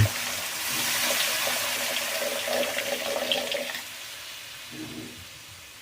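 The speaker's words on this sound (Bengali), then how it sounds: "এবার দিয়ে দেবো পরিমাণ মতন জল" Water poured into a pan of crab curry masala, a steady splashing pour for several seconds that tapers off, followed by a brief softer clatter.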